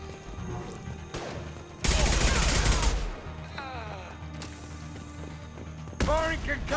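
Concussive shot fired in a video game: a loud, dense blast of about a second that stands out over a quieter battle ambience, followed later by another sharp burst, with voices speaking in between.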